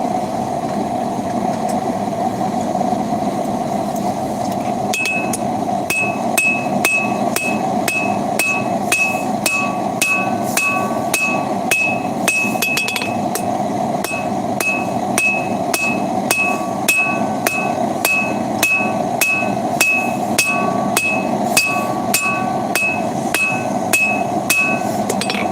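A 5.5 pound striking hammer forging titanium tongs on an anvil, a long run of loud, sharp metallic blows in a steady rhythm, each strike ringing briefly, with no talk.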